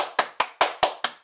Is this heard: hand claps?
yes